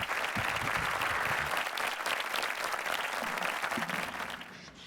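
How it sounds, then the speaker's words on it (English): A conference audience in Dubai applauds a panel, with a steady, dense burst of clapping from a sizable crowd that fades out at the end. "Let's hear a nice round of applause."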